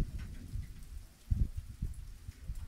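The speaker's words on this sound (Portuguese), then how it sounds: "Choveu agora, uma chuva muito forte." Heavy rain falls outdoors after a strong downpour, a soft patter of drops with low rumbling thumps of thunder in the distance, fairly quiet and without talking.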